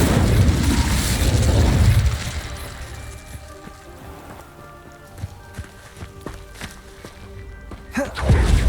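An Incendio fire spell in Hogwarts Legacy erupts in a loud, roaring blast that fades into a quieter stretch of scattered small impacts, and a second sharp burst flares near the end.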